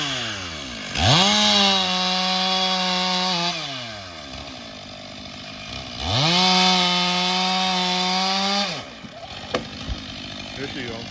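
A chainsaw trimming branches from trees revs up in two long, loud bursts, each holding a steady high whine before dropping back to a rough idle, with a few clunks at the end.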